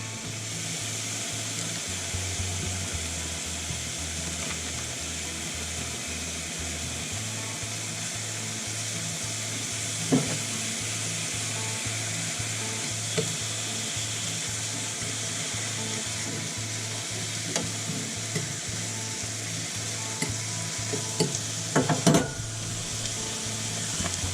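Slices cooking in a pan during Christmas dinner preparation, a continuous even sizzle with a low steady hum underneath and a few faint clicks and clatters near the end.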